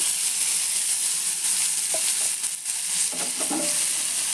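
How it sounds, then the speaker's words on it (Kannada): Okra (bhindi) fries in a generous amount of oil, giving a soft, steady sizzle and hiss. A few faint stirring scrapes break through near the end. "ನೋಡ್ರಿ ಈ ಥರ ಕರಿಯಾಕತ್ತಾವು ಇದಕ್ಕೆ ಒಂದು ಸ್ವಲ್ಪ ಎಣ್ಣೆ ಜಾಸ್ತಿನೇ ಬೇಕು"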